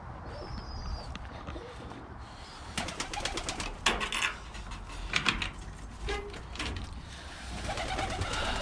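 Birmingham Roller pigeons coo and shuffle inside a breeder loft, with soft cooing calls, wing flutters and scattered rustling over a constant background hiss, nearby and moderately loud.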